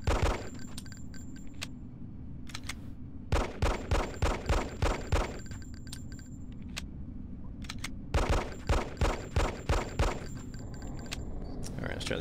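Semi-automatic 9mm pistol fire in the game Hitman: Codename 47, sharp rapid shots in bursts of several quick reports separated by short pauses, loud and close.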